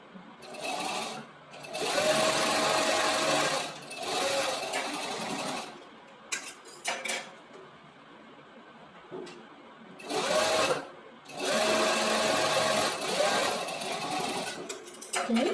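A sewing machine runs a double top stitch seam in several loud bursts, each a steady mechanical whir of a few seconds, with quiet gaps and brief handling clicks between them.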